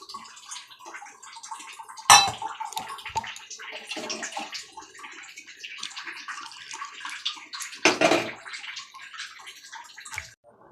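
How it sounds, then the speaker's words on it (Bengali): A bowl is rinsed under a running kitchen tap, with splashing, sloshing water and gurgles, and two louder gushes as the bowl fills or is tipped, close and alone. "বাটিটা একটু ধুয়ে দিয়ে দেবো।"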